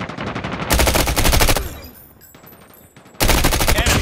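Loud, close automatic gunfire rattles out in two rapid bursts in the Call of Duty Mobile video game, with a quieter lull between them.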